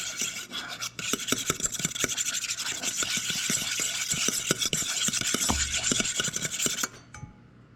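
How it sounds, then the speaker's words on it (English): Agave stirred into a vegan honey-mustard-style sauce, a steady scraping rub of utensil against bowl with rapid repeated clicks and taps, close and fairly loud for about seven seconds before stopping. "we're just going to add a little bit of agave, just make it a little sweeter"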